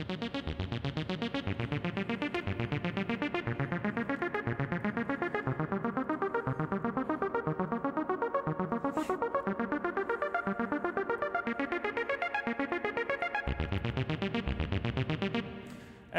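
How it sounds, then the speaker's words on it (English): A synthesized arpeggio repeats in fast, even rising note patterns, bright and steady, playing alone for about sixteen seconds. "ARP is just a small abstraction I wrote to build an arpeggiator"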